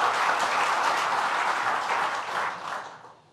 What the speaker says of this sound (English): let's give another round of applause to our hometown mayor here, Tom Roach